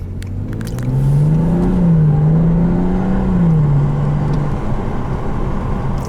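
A car drives in toward the viewer at about 30 mph on a driving course, its engine note holding a steady, fairly loud drone that swells over a few seconds and then fades, with no talking.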